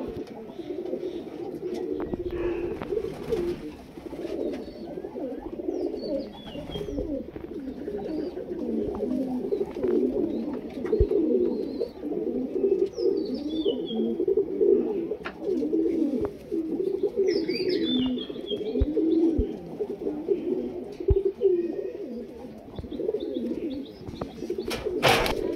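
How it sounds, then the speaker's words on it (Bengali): Female pigeons of a high and low flyer flock in Krishnagar, Nadia, coo in a steady low rolling murmur throughout, with occasional soft chirps and brief wing sounds, and a faint voice now and then. "এটা মাদা পায়রা"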